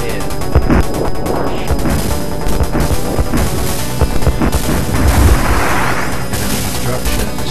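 Explosions and crashing blasts from structures and units being destroyed in the real-time strategy game Dune 2, Ordos final mission, dense and continuous with repeated heavy booms throughout.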